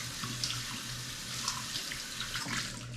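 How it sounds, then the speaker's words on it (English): Tap water runs steadily into a barber-shop sink as brushes and combs are rinsed of soap and suds, a continuous close splashing stream with faint clinks and no talk. "So what we're gonna do is rinse them."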